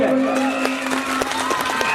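Audience at a rural Hindi stage comedy drama performance, with crowd noise, cheering and scattered clapping swelling steadily throughout, loud and close, over a sustained musical tone.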